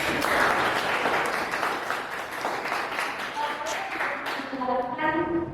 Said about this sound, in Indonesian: Tepuk tangan buat Laura.